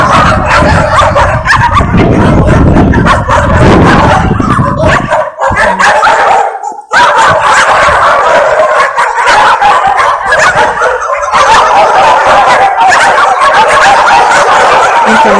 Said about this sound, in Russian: Волонтеры кормят собак.